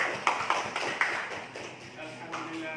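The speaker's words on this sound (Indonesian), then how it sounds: "Tepuk tangan semua." Classmates clap together in a classroom, a brief burst of scattered hand claps with sharp taps that fade out, voices mixed in.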